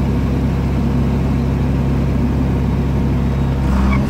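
A 4630 tractor engine runs loud and close in a steady, deep, throbbing drone, with a slight rise in revs near the end.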